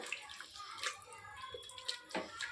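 Water being poured into a pressure cooker of mutton masala curry, a soft close splashing trickle in short bursts, faint and with no talk.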